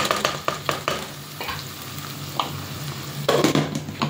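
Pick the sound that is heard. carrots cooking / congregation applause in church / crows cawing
carrots cooking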